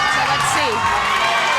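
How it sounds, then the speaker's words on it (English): Crowd at an XFC fight between Steph Gulino and Eden Gray, a dense roar of cheering and shouting filling the arena continuously, with a commentator's voice briefly over it. "the crowd's going wild again"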